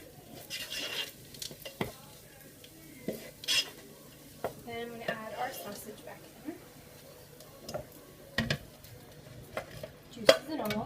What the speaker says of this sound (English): And I just want to stir that around.